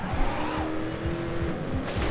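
A race car in the video game Trackmania Turbo drives on a Grand Canyon drift track, its engine droning steadily with a sustained whine and tire squeal throughout, loud and without pause.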